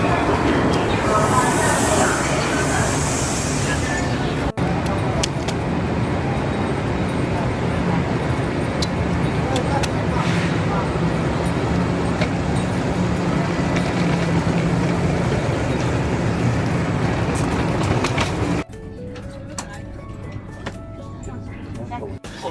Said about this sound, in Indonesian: Ini udah di dalam kereta ya.